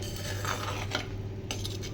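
A spoon stirs a simmering fish curry in a cooking pot, giving light metallic scrapes and soft clinks over a steady low kitchen hum, with no talking.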